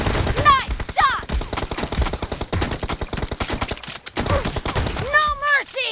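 Rapid gunfire from the mobile shooter game PUBG Mobile, with shotgun blasts among dense bursts of shots, loud and close, and a few short metallic effects punctuating the volley.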